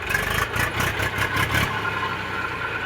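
An Eicher 333 tractor, a 39 HP single-owner machine, idling nearby with a rhythmic low thumping engine that pulses at first and then settles into a steady hum.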